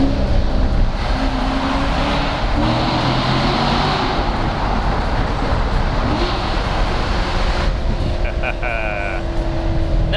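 A 2014 Chevrolet Corvette C7 Stingray convertible drives through a tunnel, with a loud, steady engine roar and shifting tones echoing around, while a voice speaks over it near the end.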